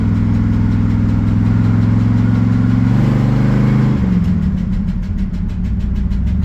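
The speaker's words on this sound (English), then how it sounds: "Transmission is not shifting." A car engine runs loudly and steadily with its transmission failing to shift. The droning hum holds one pitch, then wavers and drops to a rougher, lower note partway through.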